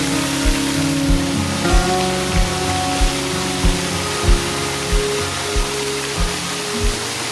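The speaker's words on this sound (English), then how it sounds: "Show you how I go about getting down this treacherous bloody waterfall." A waterfall roars as a broad, loud, continuous wash of water, with regular low thumps like footsteps underneath it.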